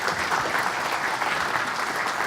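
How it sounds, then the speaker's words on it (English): Audience applause at a POSSCON 2011 open source conference keynote, a steady dense wash of clapping from a crowd filling the whole short stretch without pause. "A round of applause."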